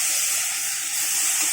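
A ground paste of tomato, ginger-garlic paste, two green chillies and onion hits a hot pan for a Bhasa fish dish, giving a loud, steady, hissing sizzle throughout.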